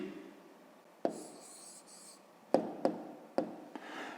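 A pen writes an answer by hand on paper in a quiet room, with soft scratching strokes and a few sharp taps as it touches down, close but faint, with no talk.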